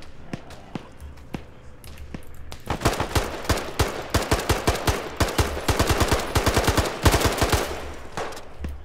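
Rapid automatic gunfire in a first-person shooter game, sparse single shots at first, then long loud bursts of evenly spaced rounds that keep going to the end.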